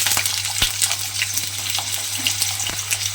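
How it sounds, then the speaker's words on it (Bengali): Long washed potato strips slide into hot oil and fry with a steady, close sizzle, a bubbling hiss broken by small pops and crackles. No voices are heard. "সেই আলুটা আমি তেলের মধ্যে দিয়ে দেব।"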